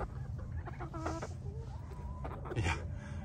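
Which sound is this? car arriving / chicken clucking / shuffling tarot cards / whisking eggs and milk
chicken clucking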